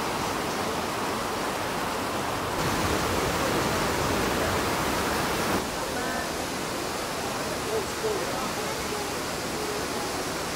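A waterfall near Jinguashi, Taiwan, in a river of striking colour, pours as a steady, loud broadband rush that fills the whole recording without pause.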